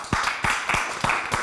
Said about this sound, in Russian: Я попрошу всех присутствующих поаплодировать.